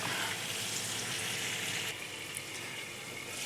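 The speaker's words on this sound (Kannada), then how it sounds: "ನೋಡಿ ಫ್ರೆಂಡ್ಸ್ ಕೈಮ ಎಲ್ಲ ಬೇಯ್ತಾ ಇದೆ ನೀಟಾಗಿ" Minced mutton keema frying in oil inside a covered pan gives a steady, soft sizzle and bubbling hiss, even and unbroken, heard alone at low volume.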